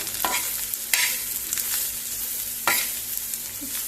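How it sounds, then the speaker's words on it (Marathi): Masala roasting in a pan over a low flame, a soft steady sizzle with a few distinct spatula scrapes and knocks against the pan. "सोय घालुया आणि बारीक गॅसीर धरून भाजूया"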